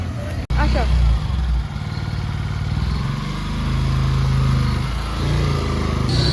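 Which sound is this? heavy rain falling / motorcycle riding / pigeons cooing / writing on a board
motorcycle riding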